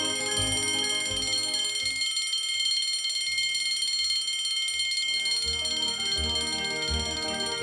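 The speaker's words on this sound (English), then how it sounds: "The repeat function can also be heard on the Grand Sonnerie or Petite Sonnerie setting and can be manually silenced." A Patek Philippe Henry Graves Supercomplication smartwatch face sounds its chime alarm as a steady, bright electronic ringing tone repeated in a fast pulse, with soft low thumps beneath and no speech.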